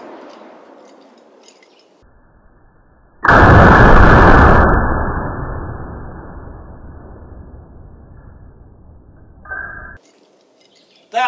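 A Beretta 92FS pistol shot strikes an exploding Firebird target, producing a sudden loud blast that roars and slowly decays over several seconds, followed by a brief click near the end.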